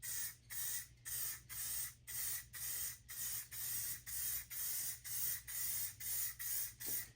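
Clear coat is sprayed onto a painted motorcycle tank in a quick series of short, even hissing bursts with brief pauses between them, close and fairly quiet.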